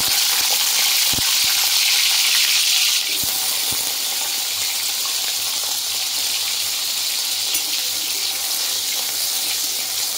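Cut potatoes hit hot oil in a wok and fry, a steady, close hiss of bubbling oil that starts louder and settles into an even sizzle, with a few small clinks.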